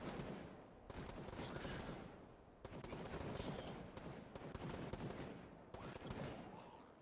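Gunfire rattles in the video game Gray Zone: fairly quiet, repeated bursts and volleys come in waves with brief gaps between them.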